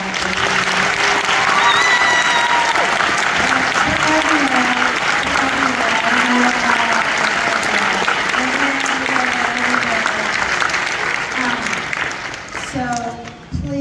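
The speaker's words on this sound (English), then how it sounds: "I want to make sure that you give a huge, huge applause to the music teachers of this county" An audience gives long, full applause to a county's music teachers after an honors chorus performance, dense clapping with some cheering and voices above it, fading out near the end.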